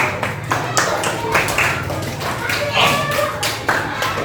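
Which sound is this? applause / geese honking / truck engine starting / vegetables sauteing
applause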